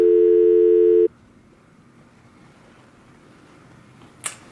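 A phone call-failed tone plays as a single steady electronic beep for about a second, then cuts to quiet line hiss with a faint click near the end.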